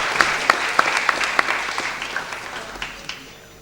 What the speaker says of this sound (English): A round of applause for the winning team.